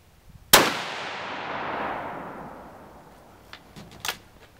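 A single loud shot from a Savage Axis .308 rifle cracks sharply and then rolls away in a long fading echo across open ground, followed by a few faint clicks and knocks.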